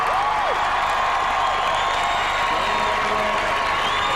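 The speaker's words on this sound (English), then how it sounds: "listen to the crowd." A boxing arena crowd at the Azumah Nelson vs Calvin Grove fight roars and cheers continuously, with whistles and whoops rising above the dense, steady noise throughout.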